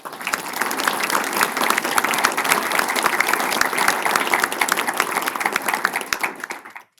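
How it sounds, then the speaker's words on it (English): An audience at an evening talk on democracy and authoritarianism gives its speakers a big round of applause, a full, even patter of many hands clapping that carries on steadily, with no voices, before cutting off at the end. "join me in a big round of applause for our speakers"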